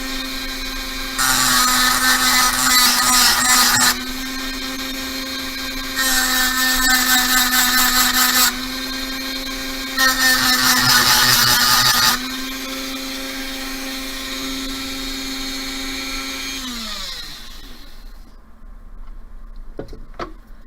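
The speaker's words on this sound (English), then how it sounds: "I'm just gonna grind down until it's nice and smooth." A small rotary power tool runs with a steady high whine and three louder grinding bursts while a beaded pendant is ground smooth, then the motor spins down and stops near the end.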